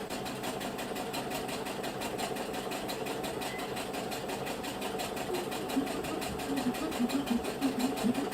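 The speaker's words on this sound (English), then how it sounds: "So we're just going to go ahead and start sewing." A sewing machine stitches a channel in fabric, leaving space for elastic to pass through, running as a steady mechanical whir with faint rapid needle ticking throughout and no pauses.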